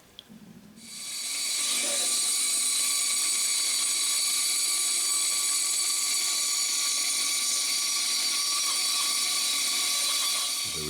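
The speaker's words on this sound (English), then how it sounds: "we're going to head over to the bandsaw and just trim that arc" Bandsaw trimming a curved arc in wood for a floating driver's panel: the motor spins up after a faint start and holds a loud, steady high whine with a rasping cut throughout.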